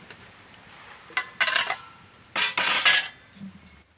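A metal stand set down into a wok of water with several clanking metallic knocks and scrapes in two short bursts, close and clear with no talking.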